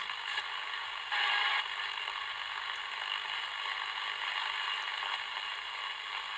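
The tuning knob of a Soviet-era Nevskiy radio receiver skips across the band, giving one brief ratcheting burst over a steady hiss of static and interference.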